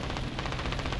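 Sustained heavy-calibre machine gun fire from an aircraft in a War Thunder air battle, a dense rapid rattle that runs continuously through the whole moment at steady loudness.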